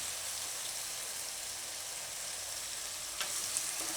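Potatoes frying in a pan with salt added give off a steady, even sizzle with faint scraping from stirring, and a brief clatter near the end. No one speaks.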